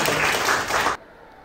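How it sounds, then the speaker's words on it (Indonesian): Classmates clap together in a religious-education lesson, a short burst of steady applause for students who answered that stops abruptly, leaving quiet room tone. "Ya, tepuk tangan untuk temannya."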